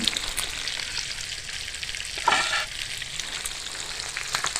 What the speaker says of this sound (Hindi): दूसरी साइड भी हमारी फ्राई हो चुकी है।